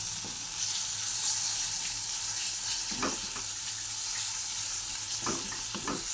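Fish kofta curry ingredients made with lote fish sizzle steadily in a hot pan, with a few sharper scraping stirs near the middle and end; no talking.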